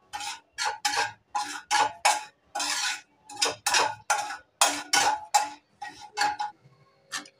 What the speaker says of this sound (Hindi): बिल्कुल एकदम लो आंच पर मैं फ्राई करें, क्योंकि सूजी जरा सा ही है, जल ना जाए।